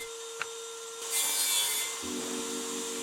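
A saw cuts through plywood pieces in one short stroke of bright rasping, with a faint tap just before and a quieter rubbing afterward.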